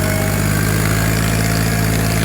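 A tractor engine runs in a sugarcane field, a loud, close, steady diesel drone with a throbbing low rumble and no pauses.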